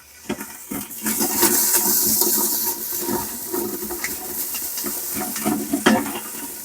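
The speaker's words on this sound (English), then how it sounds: "I got my onions in here sauteing. I'm just going to give them a quick stir." Onions sautéing in an Instant Pot, a loud close sizzle with a spoon stirring and scraping against the metal insert in short strokes.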